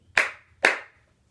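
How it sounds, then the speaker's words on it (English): Two sharp hand claps from children at a library storytime, evenly spaced and close, each ringing briefly before fading. "Clap your hands"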